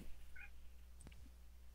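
A cat gives a short, faint meow over a steady low background hum, heard alone without talk and fairly distant.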